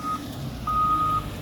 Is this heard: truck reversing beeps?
yes